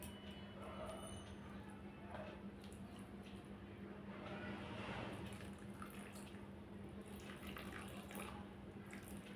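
A small amount of water is poured at close range, a steady soft trickle with light splashing and a faint drip, running continuously without talk over a constant low hum.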